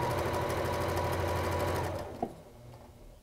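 A sewing machine stitches along the raw edges of fabric, its steady rapid whirring running for about two seconds before stopping with a small click and near silence.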